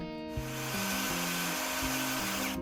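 A power drill bores a hole through the metal of a Harbor Freight 3-point quick hitch, giving a loud, steady motor whine whose pitch steps up and down as the bit loads and frees, heard alone without talk.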